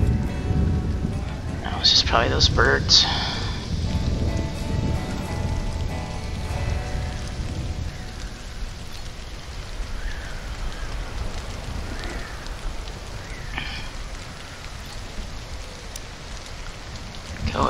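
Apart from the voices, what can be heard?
thunderstorm and rain in the video game Stranded: Alien Dawn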